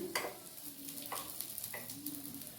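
Egg ponganalu frying on low heat in a pan, a soft steady sizzle with a few brief crackles and stirring scrapes, close and fairly quiet, with no talking.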